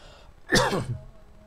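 A single short, harsh cough from a person with a lingering cough, close and fairly loud, breaking a quiet indoor moment.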